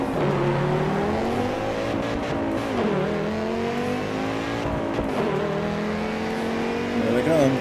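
Caterham race car engine in Assetto Corsa EVO, revving steadily with rising and falling pitch through gear changes, loud and continuous throughout with a voice talking over it.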